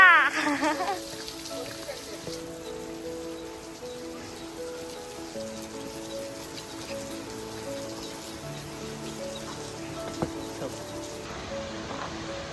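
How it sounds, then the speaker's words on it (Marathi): Steady monsoon rain patters down on a trek to Harishchandragad fort near Malshej Ghat with a constant soft hiss, while a voice speaks over it throughout at moderate volume. "आज पावसाचा पण जोर थोडा फार म्हणजे जास्त नाही आहे पण असं कमी पण नाही आहे"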